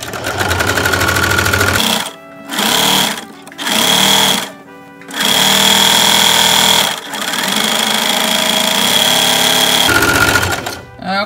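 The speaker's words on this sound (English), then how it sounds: "we're gonna zigzag because we don't want all this coming undone" A sewing machine runs zigzag stitching on a newborn baby sleeper in loud bursts of rapid mechanical chatter, stopping and starting several times with short pauses between runs.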